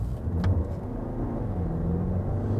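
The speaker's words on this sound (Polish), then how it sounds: "przy ostrzejszym ruszeniu, tak jak teraz tutaj, ten dźwięk czterocylindrowego silnika po prostu nie przystoi do segmentu E" Four-cylinder hybrid engine of a Lexus RX 500h pulling hard from a standstill, a steady low droning rumble heard from inside the cabin with no talk.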